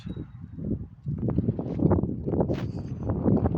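A cold night wind blows in Saudi Arabia at 2 a.m. in bad weather before rain, a steady low roar of gusts rising and filling the whole clip, with no voices.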